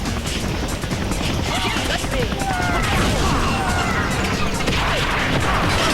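Loud, dense crashing and explosive bursts from a helicopter being destroyed in the video game Viewtiful Joe, a continuous barrage of impacts and blasts layered under game music.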